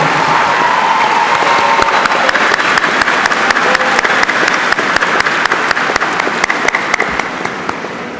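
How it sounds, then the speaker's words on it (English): At a Bryan Adams High School graduation in Dallas, the crowd gives teachers and counselors a loud, continuous round of applause, with sharp individual claps standing out against the steady roar as it slowly fades. "Please give these outstanding educators applause for their hard work"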